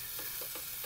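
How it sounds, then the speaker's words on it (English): Food cooking in a pan, a soft continuous sizzle and frying crackle, faint and close, heard alone for under a second. "this sounds like it's cooking well on the other side"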